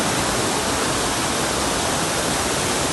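Loud, continuous rush of flowing stream water, broadband and unbroken, close by with no talking.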